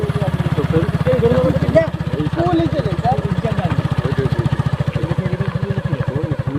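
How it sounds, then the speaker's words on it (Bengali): Motorbikes ride along a rough village road with a close, steady throbbing engine pulse that runs the whole time, and some voices are heard over it. "আমরা যাচ্ছি তিনজন পিছনে বাইক আসছে"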